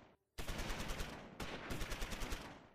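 Close Combat game gunfire: after a brief quiet start, loud sustained bursts of rapid automatic fire crackle without pause, broken by a short gap before another long, dense volley.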